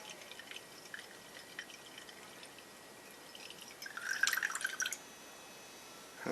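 Old gasoline poured from a Murray lawn mower's 5HP Briggs tank into a jug, heard as soft, faint trickling and dripping that swells into a brief steadier splash of liquid near the end.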